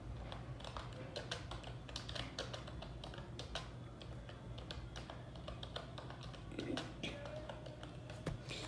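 Continuous typing on a computer keyboard while writing a line of text in a Microsoft Word document, with rapid irregular clicks close to the microphone and a faint background hum.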